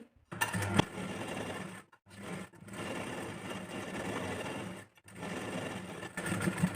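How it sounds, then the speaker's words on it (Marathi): A sewing machine stitches the lining of a cotton blouse sleeve in three steady, close runs of rapid whirring, each separated by a brief silent pause. "आता पूर्ण जेही अस्तर आहे त्याच्यावरती इथे स्टिच करून घ्यायची"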